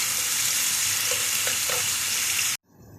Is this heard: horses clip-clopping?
no